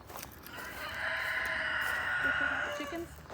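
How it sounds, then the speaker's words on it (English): Chickens at a homestead chicken house give a drawn-out, mid-distance call that swells and fades over a low outdoor background, with a few soft clucks near the end. "let's go check out chickens. Check out the chicken house."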